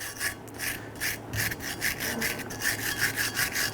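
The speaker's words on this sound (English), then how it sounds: "We're going to use a bristle brush, and right where the slides were placed, you want to go ahead and clean this." Stiff bristle brush scrubbing rust and debris from a Ford Explorer front brake caliper bracket, a steady run of rapid, close rasping strokes in an even back-and-forth rhythm, alone without talk.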